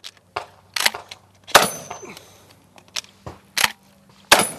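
Shotgun blasts ring out in a rapid ten-shot shooting drill, about eight sharp, loud reports at irregular intervals, each trailing off quickly between shots.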